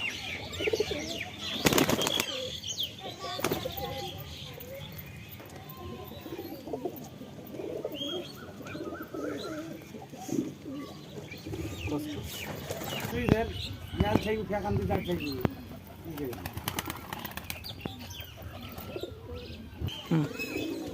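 KTM Teddy pigeons coo softly at close range amid a scatter of chirps, sharp wing flaps and loud bumps, with background movement throughout.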